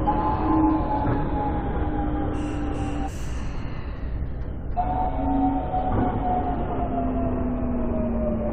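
Subway Line 1 train heading toward Hanam, a loud steady rumble with a sustained whine rising and falling, plus a brief high electronic chime partway through.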